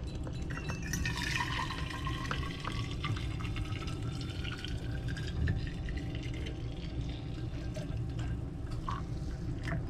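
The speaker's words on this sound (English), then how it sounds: "We're going to pour our coffee straight in." Coffee poured straight into a pre-heated thermos, a steady liquid stream running for the whole stretch with a rising filling tone, close and fairly quiet, no talking.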